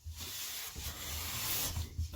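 A hand plane with a freshly sharpened blade shaves wood in one steady, continuous rasping stroke, close and fairly quiet, with no voices.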